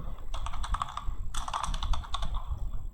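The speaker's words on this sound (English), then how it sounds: "I am typing the email address." Fingers type an email address on a computer keyboard during an online sign-up, two quick bursts of close, clicking keystrokes with a short pause between them, nobody speaking.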